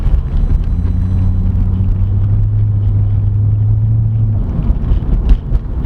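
A 2012 Chevrolet Corvette C6 Grand Sport with an automatic transmission rolls over rough road, its low steady engine drone and road rumble filling the cabin, with a few small knocks and jolts near the end.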